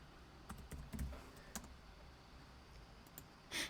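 Faint scattered keystroke clicks from typing on a computer keyboard, irregular and quiet against a low background hum, with a louder clatter at the end.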